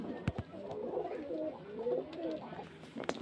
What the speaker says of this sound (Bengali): এই যে এক পেয়ার পায়রা,